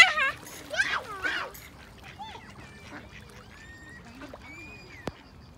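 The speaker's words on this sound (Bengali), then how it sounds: "আমার বড় মায় হাঁসের খাবার দিতে আছে।" Ducks quack close by while they are fed at a picnic, with a burst of loud quacking at the start and then scattered calls, a short splash, and faint children's voices and chirps behind them.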